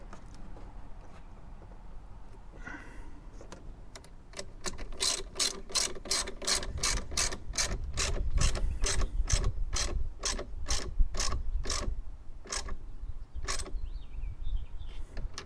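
Ratchet tightening the battery terminal nuts on a 2022 Hyundai Palisade, a faint click or two at first, then a long run of loud, evenly spaced ratcheting clicks up close with short pauses near the end.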